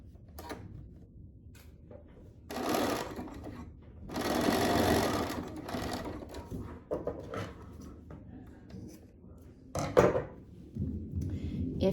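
A sewing machine bastes across a strap in a few short bursts of rapid stitching, separated by pauses with quieter handling sounds in between.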